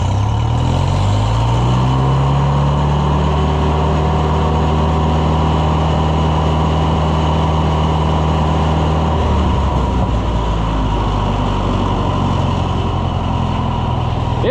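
A Fiat engine idles steadily through a new muffler, running a little rich, with a low continuous rumble held close and loud for the whole stretch, its pitch shifting slightly partway through.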